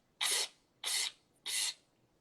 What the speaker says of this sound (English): This is what we call the shaman's breath medicine.